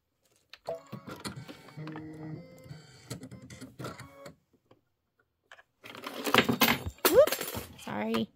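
An embroidery machine stitches the final outline of a leather keychain in rapid mechanical ticking bursts, pausing briefly, then resuming more loudly while a person talks.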